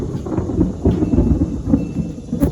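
Thunder rolls and rumbles through a storm on a farm with goats, a continuous low booming that swells and fades in several surges, with a brief sharper crack near the end.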